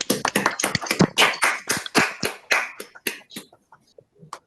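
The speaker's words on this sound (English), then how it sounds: "let me just ask everyone to unmute and give our panel a round of applause" An online audience unmuting to clap for a conference panel, scattered uneven claps from several participants that start fairly strong and thin out into a few sparse taps before fading.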